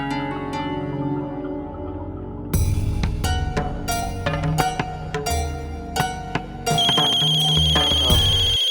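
A telephone ringtone plays in repeating melodic bursts, loud and close, continuing steadily with no talking.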